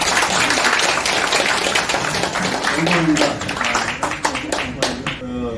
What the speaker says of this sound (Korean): 박수로 보내드립니다.